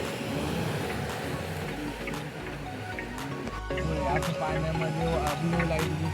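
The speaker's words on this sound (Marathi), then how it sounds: "लाटा बघा कशा आहेत" Sea waves breaking along the Mumbai seafront at night, a continuous rushing wash of surf with a steady roar and faint voices in the background.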